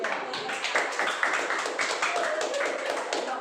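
Dense, continuous applause from a group, many hands clapping at once without pause.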